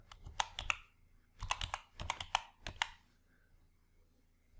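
Keys clatter on a computer keyboard while a formula is entered in an Excel spreadsheet, in quick clustered bursts of close, light clicking that fade out at the end.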